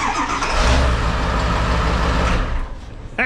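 A 7.3 Powerstroke diesel with a hard-start problem cranks slowly and steadily for about three seconds, the starter churning loud and close, then it stops abruptly.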